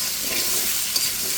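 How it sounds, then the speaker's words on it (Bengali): Cut potatoes fry in hot oil alongside tilapia, giving a steady, close, bright sizzle with no talk. "কেটে রাখা আলুগুলো দিয়ে দিয়েছি। এখন একটু ভেজে নিচ্ছি"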